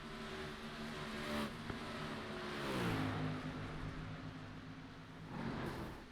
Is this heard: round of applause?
no